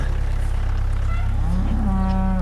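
Simmental beef cattle moo once, a drawn-out, rising call in the second half over a steady low rumble of background noise.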